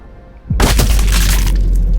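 In the video game Sniper Ghost Warrior 3, an explosion goes off right in front of the player: a sudden, loud, booming blast with crackling debris after a quiet moment.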